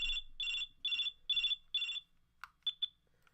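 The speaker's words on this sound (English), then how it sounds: "So we have two phone sounds. So this is the ringing." A toy phone rings loudly with five evenly spaced electronic ring bursts, then a few shorter clicks and beeps, close and alone.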